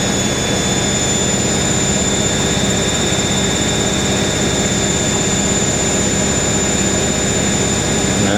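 An Indesit IWC71452 washing machine spins at 1000 RPM during a Whites 90°C programme, producing a loud, even, continuous whirring roar with no voices.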